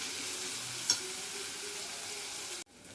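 Tomatoes and onions fry in a pan with a steady, even sizzle running throughout, broken by one brief tap near the start before the sound drops off at the end.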